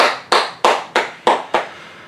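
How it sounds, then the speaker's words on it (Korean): A church congregation at a Wednesday worship service claps in unison, five sharp, evenly spaced group claps about a third of a second apart, each ringing briefly in the room, with no voices. "우리 하나님께 감사와 영광의 박수를 돌리겠습니다"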